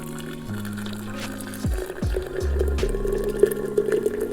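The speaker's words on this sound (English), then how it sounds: "And I pour the hot water in." Hot water pours from a kettle into a teapot holding loose tea leaves, a soft splashing fill that starts partway in and settles into a steady trickle, with a faint low hum behind it.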